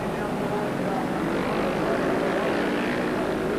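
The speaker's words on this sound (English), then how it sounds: "Down to stop corner, braking hard on these big superbikes, and then accelerating them out of there equally hard." Superbike motorcycles at the 1978 Castrol 6 Hour race brake hard into a corner and accelerate out, heard as a steady, dense engine roar with no clear gaps, under continuous race commentary.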